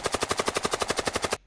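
Rapid automatic gunfire used as a sound effect for a music video intro: a close, loud burst of about fifteen evenly spaced shots in quick rhythm that cuts off sharply.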